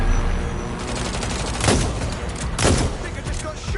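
Gunfire in the video game Watch Dogs: Legion, two loud bursts standing out over a busy game soundscape, with some speech-like sound in the mix.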